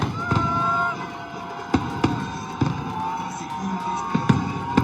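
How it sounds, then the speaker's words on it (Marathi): A burning string of firecrackers swung overhead during a procession in Pandharpur, giving sharp cracks and pops at irregular intervals over a busy crowd and engine hum. "डोक्यावरून फटाक्यांची पेटती माळ फिरवत"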